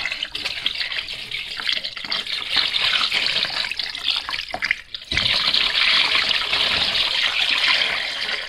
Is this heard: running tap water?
yes